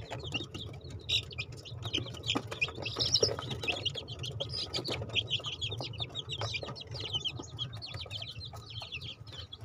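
Baby chicks peep continuously in high, overlapping chirps, faint and busy, with low clucking from nearby fowl underneath.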